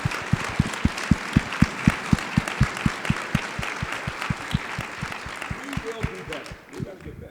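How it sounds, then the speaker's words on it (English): An audience at a democracy and tech conference applauds, a steady run of clearly separate claps close by that gradually thins and softens toward the end. "And that deserves a round of applause."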